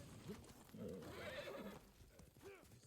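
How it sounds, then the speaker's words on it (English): A horse in the Ghost of Tsushima video game arrives when called, with quiet hoof clip-clops and snorts, then a short whinny. "Call the horsey."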